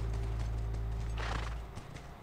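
A horse's hooves clop steadily in the video game The Last of Us, soft and repeated over a low humming bed that drops away near the end, with no one speaking.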